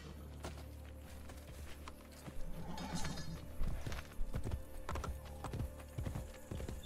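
Horse hooves clip-clop at a walking pace in the Assassin's Creed Brotherhood video game, mixed with game ambience and background noise, with no talking heard.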